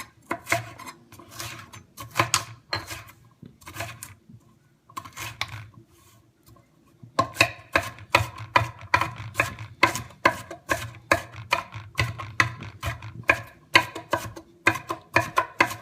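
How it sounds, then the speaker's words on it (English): A kitchen knife rough-chops peppers on a cutting board in rapid, regular knocks. Brief irregular cuts give way to a short pause, then a steady run of close, crisp chops. "We're going to just do a rough chop,"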